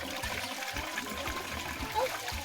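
Water flowing at a village spring in Mbanza Kongo, Angola, where residents collect drinking and washing water; a steady splashing trickle runs throughout with faint low thuds, no one speaking.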